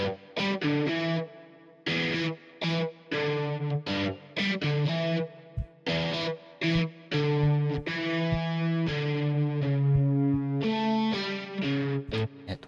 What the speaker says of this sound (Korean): 일렉 기타 같은 경우에는 앞부분에는 이렇게 옥타브 주법으로 이용을 하고 있고